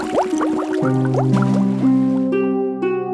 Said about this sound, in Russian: Осьминог снова погрузился в воду.